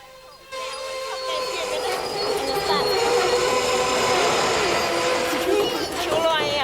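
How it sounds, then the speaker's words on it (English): Passenger train wheels screech in high, wavering squeals as carriages roll past nearby, loud and sustained over a rumbling rail noise. "Is there always that screeching sound?"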